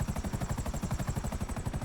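A video game helicopter descends, its rotor producing a steady, fast rhythmic chop with a faint high whine, moderately quiet and heard alone.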